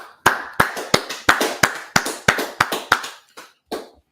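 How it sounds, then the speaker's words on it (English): An audience at an Israelite School of Universal Practical Knowledge gathering claps in sharp, evenly spaced beats, about a dozen crisp claps in a steady rhythm that thins out and stops near the end. "All right, let's clap it up."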